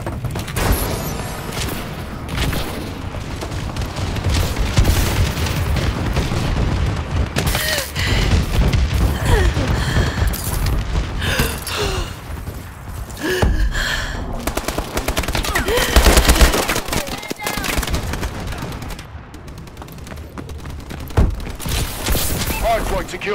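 Friendly bombing run in Call of Duty Advanced Warfare on the Solar map during a Hardpoint match, with sustained rapid gunfire and heavy booming explosions, loud and dense throughout, and radio voice lines over the top.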